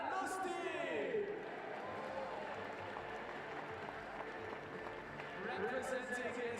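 Faint, distant applause and crowd noise from a stadium audience greeting an Estonian heptathlete after her long jump at an athletics meeting in Innsbruck, a steady wash of clapping with a few whoops.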